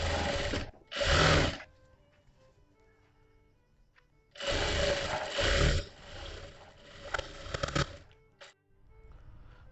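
Sewing machine stitching a princess cut blouse, running in short loud bursts with quieter gaps between, including one longer sustained run of stitching.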